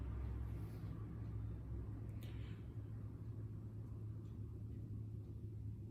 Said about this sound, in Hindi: रिकॉर्डिंग में भी आपको बीच बीच में गाड़ियों की चलने की आवाज सुनाई पड़ेगी